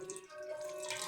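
Water poured over a Shiva linga during home worship, a brief faint trickle and splash of liquid running off the stone, steady with no voices.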